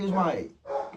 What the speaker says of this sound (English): I am sorry about the dogs in the background.